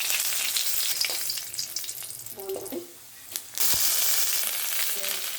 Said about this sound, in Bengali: এবার আমি ফোড়ন দেবো ডালটায়।